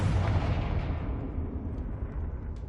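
Fiery Confringo spell blast from Hogwarts Legacy, a loud booming explosion with a dense low rumble that rolls on and slowly fades over a few seconds, with no voices.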